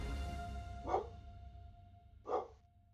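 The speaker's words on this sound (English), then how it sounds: "Dogs. They gotta bark when I stream." Dogs bark twice indoors, each a single short woof about a second and a half apart, faint and somewhat distant over a low background hum.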